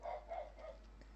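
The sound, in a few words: dogs barking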